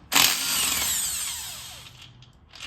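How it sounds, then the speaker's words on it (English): An impact wrench spins off an axle carrier bolt on a 1971 Ford F100 Super Duty axle swap, one loud, close whirring burst that fades over about two seconds. "I don't know if those are loose or this impact's just really strong"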